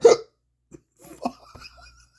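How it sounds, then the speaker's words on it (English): A person hiccups after eating Queen Majesty Cocoa Ghost hot sauce: one sharp, loud hiccup up close at the start, followed by a few softer gasps and small mouth sounds. "Got the hiccups now. That was hot."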